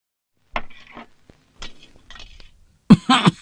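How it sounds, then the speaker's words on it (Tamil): A man coughs in a few short, rough bursts, followed by a louder, harsher fit at the end, heard up close indoors with no talk over it. "ஐயோ, எப்பவும் இருமல் வருமா?"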